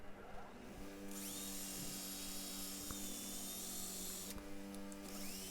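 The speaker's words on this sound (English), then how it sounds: "I use that post or metal pole to stop the grinder spinning." An angle grinder fitted with a nylon buffing pad whines steadily while polishing a small metal bench vice handle, a high-pitched hum that rises in tone as the pad presses against the metal, close and continuous with no speech.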